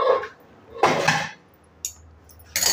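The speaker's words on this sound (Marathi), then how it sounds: "तर मी खोलून घेते, कुकर पण गार झालेला आहे" A pressure cooker is opened in a home kitchen, with sharp metallic clanks and clatters of pots and lids in a few separate bursts, close and loud, with quiet gaps between them.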